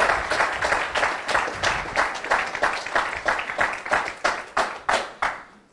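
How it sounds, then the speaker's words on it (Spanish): A church congregation claps together in a steady, even beat, loud and close, each sharp clap landing in unison before the rhythm thins out at the end. "Dele ese fuerte aplauso"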